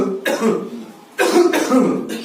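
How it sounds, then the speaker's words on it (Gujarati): A man coughs hard in two loud, harsh bursts, each lasting about a second with a rough, throaty rasp, close to the listener. "આ ઉધરસ કેમ ખાય છે?"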